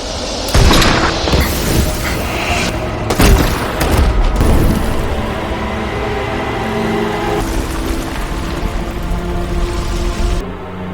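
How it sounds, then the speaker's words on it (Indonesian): Gunfire and booming blasts from soldiers opening fire in a war film battle scene, with loud bursts near the start and around the three-second mark, followed by a sustained rumbling barrage. "Open fire!"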